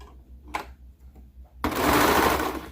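A sewing machine stitches footie leggings starting at the foot, a few soft handling taps followed by a loud, rapid continuous whir of stitching up close.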